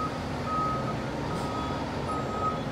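FDNY tiller ladder truck backing into its firehouse, its reversing alarm sounding repeated steady beeps over a continuous low engine rumble.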